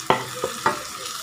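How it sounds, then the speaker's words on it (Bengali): Lotte fish with fried potatoes, pumpkin and green chillies being stir-fried in spices, three short scraping, sizzling stirs in quick succession, close and fairly loud. "মিশিয়ে আরও বেশ খানিকক্ষণ ধরে এটাকে ভাজা ভাজা করব"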